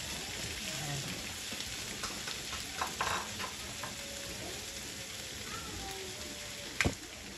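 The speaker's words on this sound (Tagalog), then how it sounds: "Okay na ang ating butter, kaya ilalagay ko na po itong ating chicken." Adobo-cut chicken pieces fry in butter in a pan, giving a steady, close hiss and crackle with occasional spoon scrapes and a sharp knock near the end.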